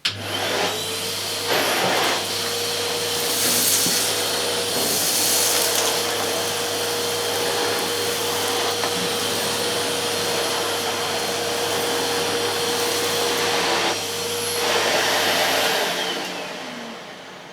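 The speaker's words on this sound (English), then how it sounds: "Go over this way and make a nice pattern on the carpet." A Numatic Harry vacuum cleaner with its new floor nozzle pushed across a living room carpet, a loud continuous motor whine and airflow roar with slight surges as the nozzle sweeps back and forth, running alone before winding down.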